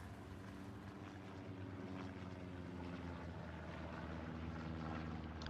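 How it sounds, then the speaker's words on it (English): In the Hell Let Loose video game, a propeller recon plane flies over the Carentan battlefield with a faint, steady droning hum that swells slightly as it passes. "TFMC recon plane coming right over."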